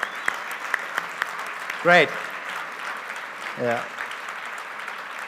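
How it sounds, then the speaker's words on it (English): A conference audience at a blockchain event keeps up a steady, moderate round of applause with scattered louder claps, while a voice briefly speaks over it twice. "You deserve the big applause."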